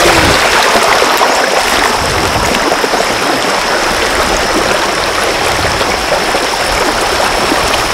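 A mountain stream flows in a dense, continuous babble of rushing water, loud and close, with no one speaking.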